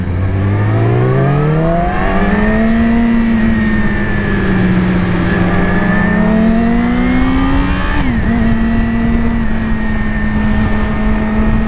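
Engine of a Yamaha R6 motorcycle revving continuously on the throttle, pitch climbing and falling in long sweeps with a brief dip and recovery near the end, loud and close in heavy traffic with no talk.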